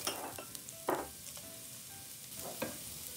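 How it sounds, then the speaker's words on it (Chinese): Strips of ginger fry in hot oil in a wok, giving a steady close sizzle broken by a few louder bursts as they are stirred, with no voices. "等油锅热了之后，我们就把姜丝放下去。"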